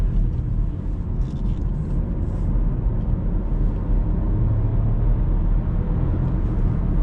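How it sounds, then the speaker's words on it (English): A Seat Ateca's engine drones under hard acceleration toward 70 mph, a loud, steady low rumble with road noise filling the cabin throughout, the revs held high without a break. "You've definitely got to rev it out and use the most of the car."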